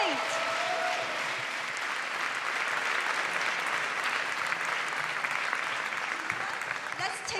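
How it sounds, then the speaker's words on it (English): Loud, steady applause from an audience fills the room at a Board of Education ceremony honoring an education award recipient, sustained without a break. "Let's give her one more round of applause"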